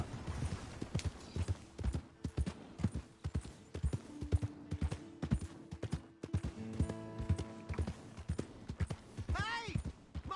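Horse hooves clip-clop in an uneven rhythm, close by, in Red Dead Redemption II, with game sound effects, a short musical tone and a whinny-like sweep near the end, while voices talk.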